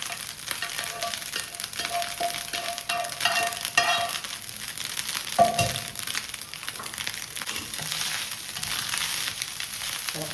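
Egg rice fries in a pan with a continuous bright sizzle, broken by scraping stirs and occasional sharp clacks of a utensil against the pan, close and steady with no talking.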